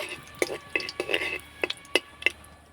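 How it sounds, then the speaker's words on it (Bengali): Whole cumin, dried red chillies and a bay leaf tempering in hot oil for a vegetarian cabbage dish, stirred with a spoon that gives a series of light clinks and taps against the pan over a faint sizzle, close and quiet. "ফোড়নটাকে হালকা নাড়াচাড়া করে ভেজে নেব"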